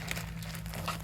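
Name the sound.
plastic bag crinkling while being handled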